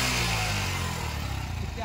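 A motorcycle engine idles at about 1000 RPM, a steady close low rumble throughout the short stretch.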